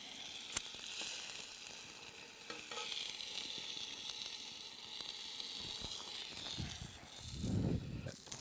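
A porterhouse steak sizzles steadily over a campfire in the Victorian Alps, sharing the fire with vegetables. The close, continuous frying hiss carries occasional crackles and a brief louder burst near the end.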